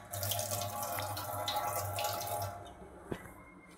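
A tap runs steadily, water streaming into a sink up close for a few seconds, then stops, followed by a single faint drip.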